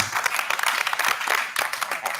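A room of people applauding at a school district meeting, a dense, continuous patter of clapping that holds steady for a couple of seconds with faint speech mixed in.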